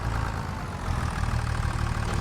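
A steady low tractor engine rumble runs unbroken throughout as the tractor reverses slowly in the video game Farming Simulator 25, fairly loud with no voices.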